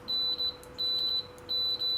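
A multimeter set to continuity sounds a clear high electronic tone in three short bursts, some broken into quick double pulses, as its probes touch together, close and alone over a faint background hum.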